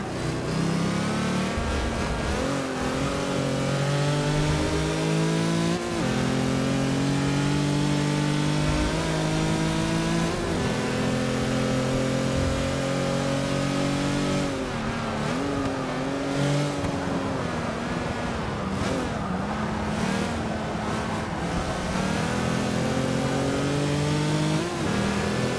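An Auto Union Type D race car engine in Forza 6, heard from the cockpit, revs and shifts up and down continuously, loud and close throughout with no talking.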